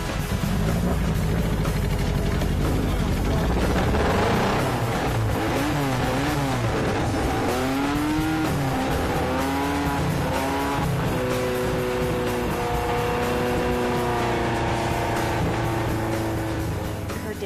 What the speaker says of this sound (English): Now we can start this car.